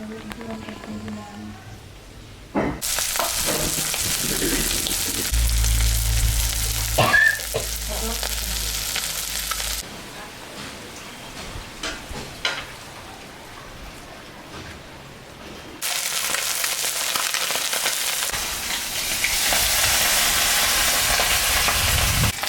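Small fish fry in hot oil for a small-fish chorchori, giving a loud, dense, steady sizzle that rises and falls in sections, with occasional stirring clatter and a brief quieter stretch midway.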